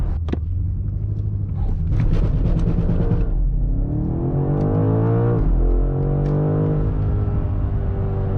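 A 2025 BMW M5 launching hard in a 0-60 test, with a deep rumbling engine note that climbs through revs, drops at a gear change and rises again, loud and close, with no speech.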